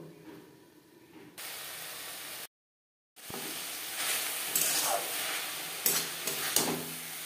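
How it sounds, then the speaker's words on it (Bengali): Shimbeans and eggplant simmering in a pot over a low gas flame for a winter vegetarian khesari greens dish: a steady soft hiss and bubbling with a few clinks and stirring sounds, broken by a brief silent gap. "গ্যাসের ফ্লেমটাকে লোতে করে দিয়ে আরও 3-4 মিনিট সবজি সেদ্ধ হওয়ার জন্য"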